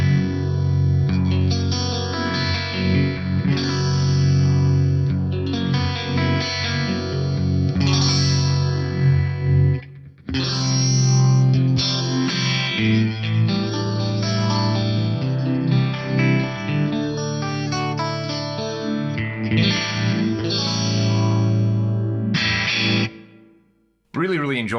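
Guitar runs through a Sony DPS-M7 rack unit's panning phaser, sweeping and swirling across a long, loud phrase of chords and notes with a brief break midway and an abrupt stop near the end.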